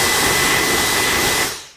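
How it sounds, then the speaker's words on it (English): A small cordless vacuum cleaner runs close by with a steady, loud, high whine and airy rush, then winds down at the end as it switches off. "Little cordless vacuum cleaner."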